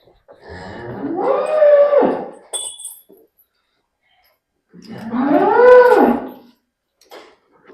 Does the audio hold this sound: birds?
no